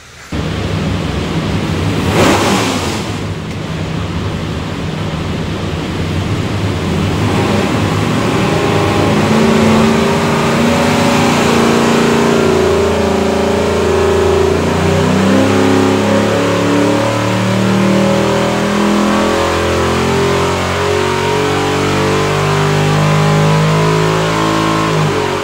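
A 416ci aluminum LS engine built for a 2005 GTO pulls through a dyno run, its loud roar climbing steadily in pitch as revs rise, then holding near the top, with no talk over it.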